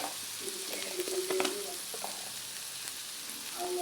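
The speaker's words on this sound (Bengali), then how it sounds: "পেঁয়াজ রসুন হালকা ভেজে নিয়েছি দিয়ে দিলাম মরিচের গুঁড়ো" Onion and garlic lightly fried with chili powder just added, making a soft, steady sizzle in the pan with a few stirring clinks, fairly quiet and without speech.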